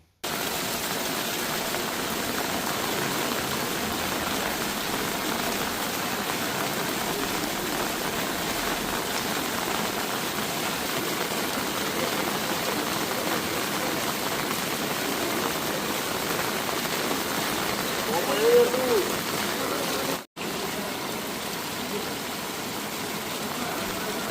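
Continuous heavy nighttime downpour in Valsad city, flooding streets; even, moderately loud hiss with a faint engine-like rumble beneath and a brief cut near the end.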